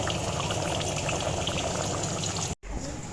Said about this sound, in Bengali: এই যে এদিকে খিচুড়ি হচ্ছে